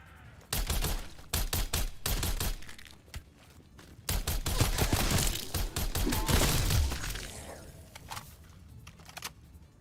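Rapid bursts of video game gunfire from single-shot guns in Dark Aether, loud and close, with clusters of sharp repeated shots, brief pauses, and a dense stretch of overlapping blasts and impacts in the middle.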